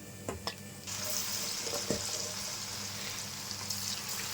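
Paneer pieces go into hot oil for paneer 65, setting off a steady, fairly soft frying hiss with a few small splashes and clinks near the start.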